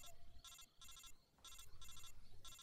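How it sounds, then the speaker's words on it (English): A phone call rings in the video game Metal Gear Solid 3, as a repeating electronic ringtone pulses in bursts over a low background hum at modest volume. "Ring, ring, ring, ring, ring. Phone call, phone call."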